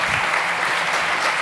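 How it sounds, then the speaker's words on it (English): Steady, dense applause from a crowd at a startup competition, a continuous wash of clapping with no gaps throughout. "Big applause for those decades"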